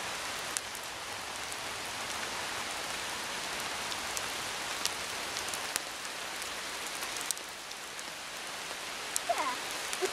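Steady rain falls over a woodland bushcraft camp with a tarp lean-to shelter, a constant even hiss of drops with occasional louder drips close by and no voices.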